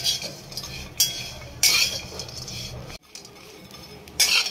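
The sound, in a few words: dry roasting coconut in a pan without oil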